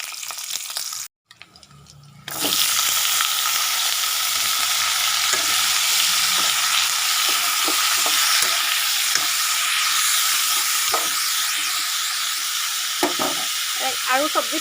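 Mixed vegetables fry in hot oil with whole cumin seeds. After a brief quiet gap, a loud, continuous sizzle starts close by, with scattered stirring clatter and no clear talk.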